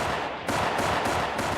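Stock library gunshot effects in a film fight scene: a quick burst of crisp, repeated shots over a dense, loud mix lasting barely over a second.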